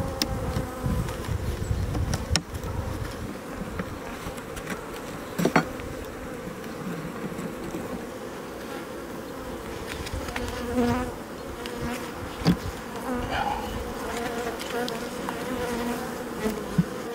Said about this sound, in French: Quand je mets du fum pour ici, les abeilles descendent